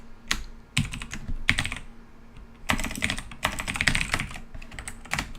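Rapid computer keyboard typing with distinct clustered key bursts, including a Control V paste shortcut, while building a zombies game map; close and fairly quiet, no talking.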